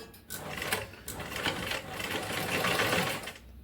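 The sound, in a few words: sewing machine stitching a blouse neck piece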